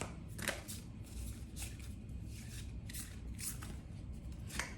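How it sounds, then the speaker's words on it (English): Cards being drawn from an angel card deck make a series of soft, papery shuffling swishes and rubs, close and quiet, repeating irregularly with no voice. "Now I'm going to go ahead and pull a card from my angel deck."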